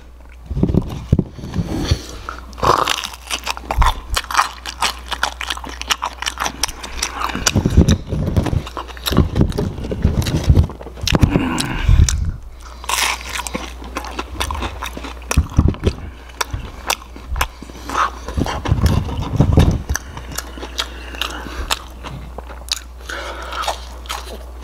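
Someone eats Domino's stuffed cheesy bread with a crispy cheese-crusted edge, up close and ASMR style. Loud crunchy bites and wet chewing come in irregular bursts separated by short quiet gaps, with no talking.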